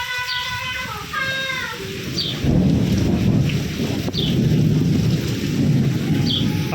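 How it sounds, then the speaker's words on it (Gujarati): Deep thunder rolls through a rainstorm over farmland, swelling into a loud, sustained rumble partway through and staying heavy to the end, with steady rain hiss and a few faint bird chirps above it. "હમણાં કડાકો બોલશે હો."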